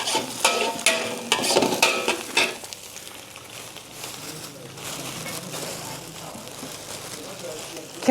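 Egg fried rice being stir-fried in oil in a wok, a bright crackling sizzle with scraping stirs that starts loud and busy, then settles into a quieter steady sizzle.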